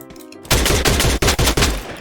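Rapid gunfire in a video game bursts in after a quiet half second, a dense close volley of repeated shots with brief gaps.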